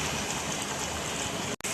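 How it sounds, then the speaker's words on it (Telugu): A pot of water seasoned with biryani spices and salt boiling for basmati rice gives a steady, dense, rushing bubbling roar throughout, cut by a brief drop-out near the end. "బిర్యానీ రైస్కి ఎసరు మరుగుతుంది కదండి."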